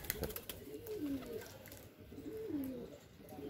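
Pigeons at a rooftop loft give two drawn-out, gently rising coos a couple of seconds apart, soft and fairly close, against quiet morning background noise with no talking.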